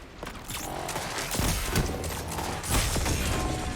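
Vex Mythoclast fire in a Destiny 2 match, a dense stream of close, loud gunshots with mechanical clatter, swelling in bursts around the middle and near the end.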